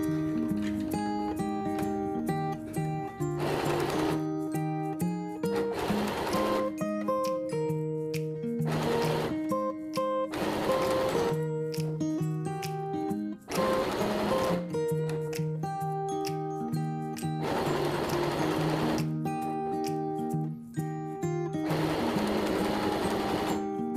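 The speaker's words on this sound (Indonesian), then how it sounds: "Kita jahit tepiannya. Di sini saya menjahitnya tanpa dikunci" A sewing machine stitches the edge of an elastic trouser waistband in repeated runs of loud, rapid mechanical whirring, broken by short pauses between bursts.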